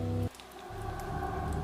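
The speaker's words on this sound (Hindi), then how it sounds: "बारिश की आवाज धीमी पड़ती है" Steady rain falls in a dark animated horror story, a soft continuous hiss with a low rumbling bed that briefly thins, then resumes at a low, even level with no voices.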